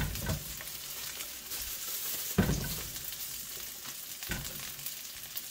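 Green peppers frying in a pan on a stovetop, a soft steady sizzle with a few louder crackles and bursts, heard close with no talking.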